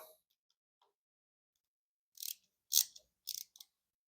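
Bolts on 2024 Road Glide handlebar controls are snugged with a ratchet, giving a few short, crisp clicking bursts near the end after mostly silence.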